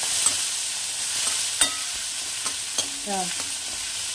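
Onions with curry leaves fry in a pan for Punjabi kadhi, a steady loud sizzle close by, broken by a few sharp clinks of stirring, with no talking.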